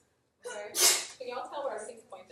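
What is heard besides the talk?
sneeze in a classroom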